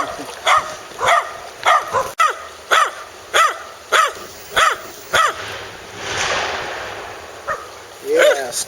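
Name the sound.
dogs barking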